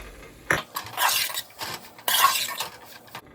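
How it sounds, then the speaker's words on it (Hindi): Garam masala is stirred into keema karela, minced meat with bitter gourd, in a pan: two sharp bursts of a metal spoon scraping and clinking against the pan, with quieter scraping between them. "1/4 टीस्पून में गरम मसाला डाल रही हूँ, इसमें डाल के हम इसे मिक्स कर लेंगे।"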